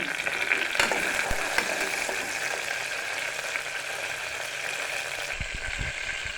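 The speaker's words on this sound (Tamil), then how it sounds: "வெங்காயம் நல்லா வதங்கிடுங்க" Onions sautéing in oil in a pan for a South Indian brown cowpea rice, a steady, close sizzle throughout with a few stirring knocks and scrapes near the end.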